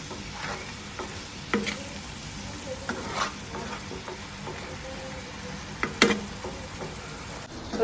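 Local shing fish (stinging catfish) from the wetland fry in a pan with chili, giving a steady close sizzle broken by occasional sharp clinks and scrapes of stirring, with no talking.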